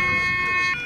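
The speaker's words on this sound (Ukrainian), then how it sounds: "Оболонську набережну розривають звуки сирени." Rescue vehicle siren wailing on a riverside embankment during a flood rescue drill, a steady loud tonal whine held briefly and fading slightly at the end.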